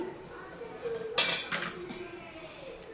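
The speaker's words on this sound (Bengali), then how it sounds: "ঢাকনা দিয়ে ঢেকে দেব, কিছুক্ষণ হতে থাক" A lid is set over a pan of steamed hilsa fish, giving a single sharp metallic clank with a shorter follow-up clink against a quiet kitchen background.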